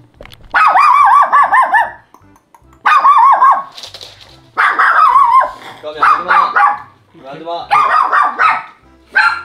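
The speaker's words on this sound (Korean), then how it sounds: "나보고 짖는 개들은 한 번도 없었는데" Several dogs barking in loud, repeated bursts with pauses between them, close by and alone without speech.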